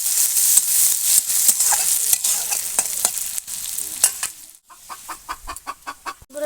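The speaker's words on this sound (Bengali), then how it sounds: "পুরো পেঁয়াজটা আমি লাল লাল করে ভেজে নিয়েছি।" Onions frying in a pan in a home kitchen, a steady loud sizzle cut by repeated scraping stirs, the last seconds breaking into short rhythmic spatula strokes against the pan.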